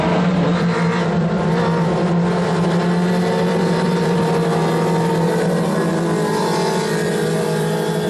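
A pack of ModLite race cars roars around a dirt oval during a heat race, a continuous loud droning engine buzz from several cars at once, steady with slight swells as they pass.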